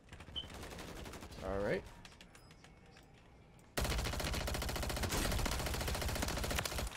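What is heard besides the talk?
gunfire in video game Call of Duty Warzone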